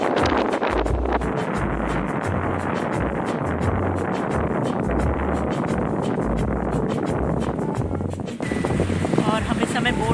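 A boat crossing the Brahmaputra river toward Majuli island, its engine giving a steady low drone under constant wind buffeting the microphone, with people talking over the noise.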